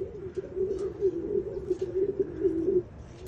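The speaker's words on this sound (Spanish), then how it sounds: "una paloma adulta" An adult pigeon coos close by, a low repeated throaty warble lasting a few seconds, alone without talk.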